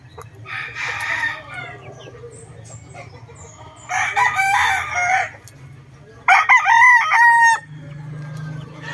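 A Gilliam Roundhead gamefowl rooster crows three times in separate loud, near bursts, the last the longest and clearest, with a steady low hum beneath.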